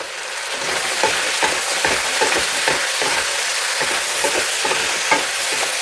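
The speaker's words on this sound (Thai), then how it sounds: "มาแล้วเราใส่เม็ดมะม่วงเลยค่ะ เราไปทอดใหม่นะ" Cashew nuts fry in hot oil in a pan, giving a loud, dense sizzle overlaid with repeated scraping strokes as they are stirred with a utensil.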